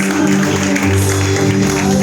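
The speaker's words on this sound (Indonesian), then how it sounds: "Sekali lagi tepuk tangan yang meriah buat Tuhan lagi." A church congregation applauds during a Pentecostal (GPdI) anniversary service. Dense, sustained clapping runs steadily over sustained keyboard or organ music throughout.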